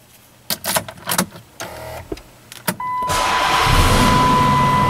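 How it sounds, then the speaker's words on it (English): A few clicks and thumps, then a 2006 Chrysler 300C Hemi V8 engine turns over and settles into a steady, deep idling rumble that continues to the end. "Again, beautiful V8 rumble with this car."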